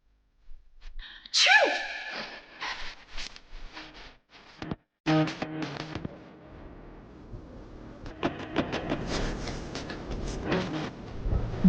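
One sharp, loud sneeze bursts out near the start, followed by gasping breaths and scattered rustling and thuds over about ten seconds, close and indoors.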